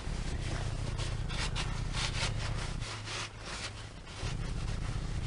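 A brush or cloth scrubs a spill into a rug in steady back-and-forth strokes, a close, rough rasping rhythm with a brief pause near the middle.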